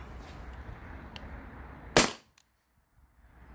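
A single sharp shot from a T4E HDP50 pistol modded to run on HPA without a restrictor, a loud close crack over low background rumble that drops to near silence afterward.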